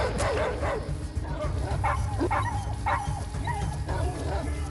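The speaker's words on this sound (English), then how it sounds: "The dog's feeling it." A dog in the video game Atom RPG lets out a run of repeated barks and yips, close and loud, over a constant low rumble of game ambience.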